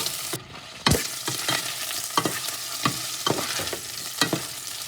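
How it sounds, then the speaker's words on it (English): Shredded cabbage fries in a hot pan with a constant crackling sizzle, broken by several sharp scraping stirs of a utensil at irregular intervals, close up with no voices. "I'm gonna fry for 3 minutes. I want to give it a little color."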